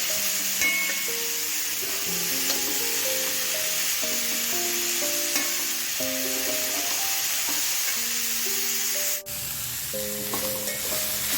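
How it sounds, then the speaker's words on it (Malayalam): Chopped white radish is being sautéed for sambar: a loud, continuous sizzle in the pan, with a spatula stirring and scraping through it. No one speaks. "ചെറുതായി അരിഞ്ഞു വെച്ചിട്ടുള്ള റാഡിഷ് ചേർത്ത് കൊടുക്കാം ഈ റാഡിഷിനൊരു പച്ച മണം വരും അതിനു വേണ്ടിയിട്ടാണ് നമ്മൾ വഴറ്റുന്നത്"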